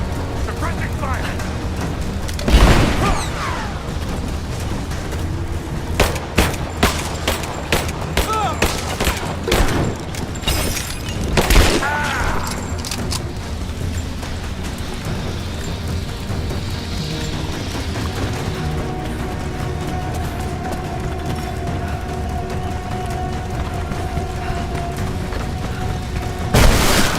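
Gunfire in the Rise of the Tomb Raider video game, sustained bursts and scattered heavy booms over a loud, dense battle din, with shouted voices mixed in.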